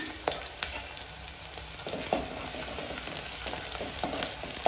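Onions with garam masala sizzle and crackle steadily in a pan, village-style cooking for bagara rice, with occasional stirring scrapes and pops over a constant frying hiss.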